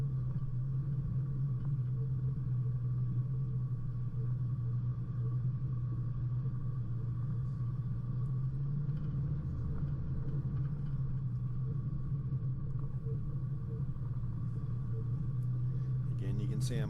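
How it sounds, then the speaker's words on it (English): An off-road vehicle engine climbing over rocks drones low and steady under hard load for the whole stretch, with a rumbling, strained tone and faint talk in the background. "you can probably hear the work the engine's doing. It's just working hard the whole way up here"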